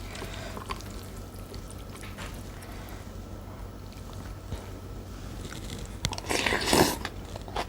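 Someone bites into homemade pickled baby radish near the mic, with a soft crunching bite and brief chewing toward the end after quieter mouth sounds.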